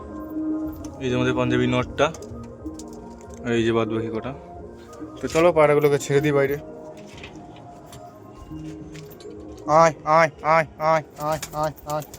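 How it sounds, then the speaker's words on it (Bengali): Pigeons cooing in a household loft, several soft rolling coos in short bursts, then a quicker rhythmic run of coos at the end, fairly close, with a voice talking in between. "এই যে সব পায়রাগুলো আছে"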